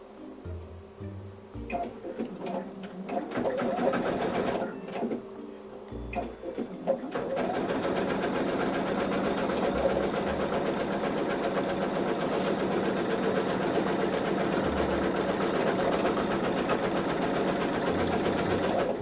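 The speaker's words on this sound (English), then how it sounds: "let the machine stitch it in for me" A sewing machine stitches a quilt contrast block; after a few short start-stop bursts it settles into a long, steady, rapid mechanical whir, close and fairly loud, with no talk.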